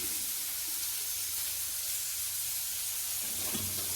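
Greens fry in a pan with a steady, soft sizzling hiss that runs continuously, faint and close, with a few small clinks toward the end.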